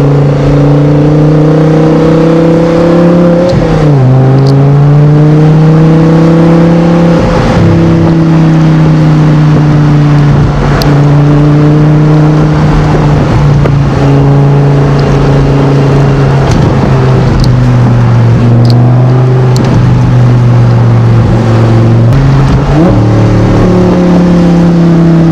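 Audi R8 sports car engine revving up and down repeatedly at close range, loud throaty rises and falls with no talking over it.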